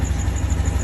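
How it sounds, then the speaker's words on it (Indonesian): Honda Beat Street motorcycle engine idling with a low, even putter, close and steady throughout the short stretch, with no cutoff heard. "Nah, motornya mati, berarti sudah berfungsi dengan baik"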